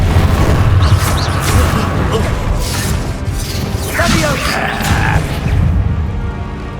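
A Bombarda blasting spell goes off in Hogwarts Legacy, a loud, dense crash and boom that rumbles continuously through the combat din, with a voice speaking under the clatter.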